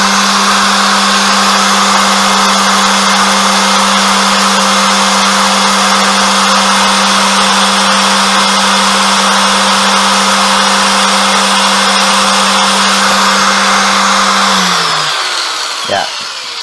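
A Hasston 4-inch angle grinder runs at full speed, making a loud, steady high-pitched whine with a constant motor hum for about fifteen seconds before it quickly winds down and stops.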